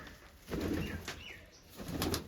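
Pigeons in a mesh-walled coop make soft coos, with a few rustling wing flaps in two louder bursts, close by and without talk.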